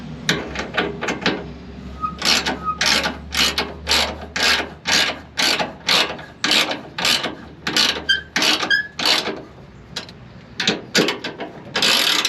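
Ratcheting wrench tightening sway bar bolts on a 1976 Corvette Stingray, a steady run of close, sharp clicking strokes in repeated bursts with brief pauses, no talking.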